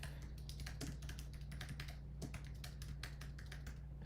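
Quick, light keystrokes tap on a computer keyboard in an irregular run. They sound close but quiet over a steady low electrical hum, and no one speaks.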